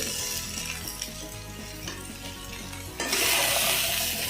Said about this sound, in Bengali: কষাবো না, একটু নাড়াচাড়াই দেখুন। এই যে আলুগুলো লাল লাল হতে আরম্ভ করেছে।